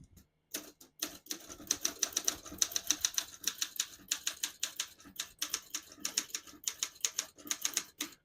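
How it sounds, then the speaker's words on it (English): Keys clatter on a 1969 Olympia SM9 portable manual typewriter in a fast, steady run of crisp, close strikes, with short pauses between bursts and no talking. "Very powerful, smooth action, fast, beautiful, luxury typewriter."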